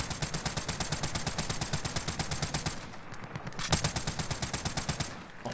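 Light machine gun fire in a video game: rapid, steady automatic bursts with a sharp regular rhythm, loud and close, briefly pausing midway before resuming.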